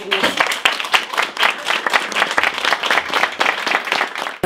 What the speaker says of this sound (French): je voudrais qu'on les applaudisse